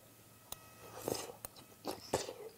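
Someone eats garlic bread with stew, with a few close, quiet chewing and crunching bites arriving in irregular bursts, alongside sharp clicks and no talking.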